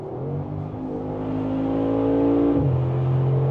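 A 700 hp Mercedes G63 Brabus accelerates hard, its engine note climbing steadily to a loud, close roar before a brief dip and a gear change into a lower, sustained drone.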